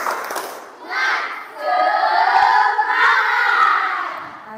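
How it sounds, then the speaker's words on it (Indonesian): Schoolchildren in a classroom shout a rhythmic tepuk semangat chant, loud and close, a burst of voices followed by a sustained group cry, with little distinct clapping standing out. "coba sekali kita tepuk semangat."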